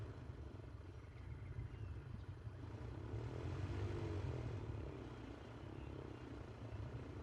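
A propeller aircraft engine drones in Flight Simulator 2024, its low hum rising and falling gently as the throttle is adjusted, steady and fairly quiet without talk.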